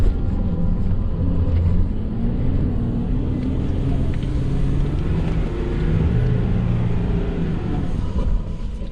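Volkswagen Amarok 4WD engine straining up a desert sand hill, a loud continuous low rumbling drone with uneven revving, close and steady throughout.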